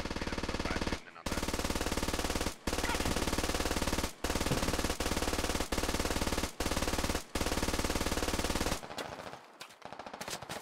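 Sustained machine gun fire rattles in the military video game Squad Ops, long loud automatic bursts broken by brief gaps, then tapering into scattered distant shots near the end.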